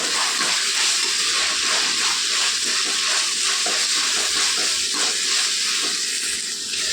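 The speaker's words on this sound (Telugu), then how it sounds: "కొద్దిగా వేగాలండి అల్లం వెల్లుల్లి పేస్ట్" Ginger garlic paste, two teaspoons, frying in hot oil in a pan for veg fried rice, giving a steady, loud, close sizzle with a few faint stirring scrapes and no talk.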